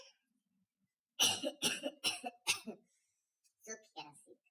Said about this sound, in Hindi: तो हम आपको सूखी खांसी बताते हैं।